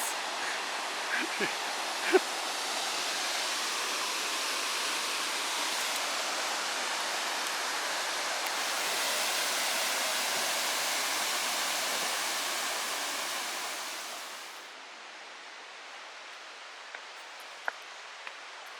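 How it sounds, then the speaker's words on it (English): A waterfall in Ryuokyo Canyon, Tochigi, Japan pours in a steady broadband hiss that is moderately distant and continuous. It fades softer near the end, where a few faint clicks are heard. "There's a waterfall"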